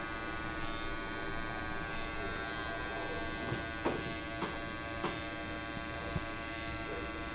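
Electric hair clippers hum steadily at close range during a haircut, with a few faint clicks and light snips as they sweep through hair; no talking.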